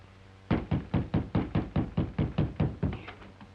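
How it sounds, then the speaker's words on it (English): Loud, close knocking on a door in a 1936 western, about eleven evenly spaced raps in a steady run with no voices. "Knock again, louder."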